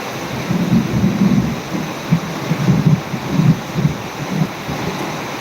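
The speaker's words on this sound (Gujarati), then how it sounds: "ગાજવીજ સાથે વરસાદ પડી રહ્યો છે મિત્રો" Heavy rain pours down in Jam Khambhalia amid a thunderstorm, with low thunder rumbling in rolling bursts beneath a constant wash of rainfall.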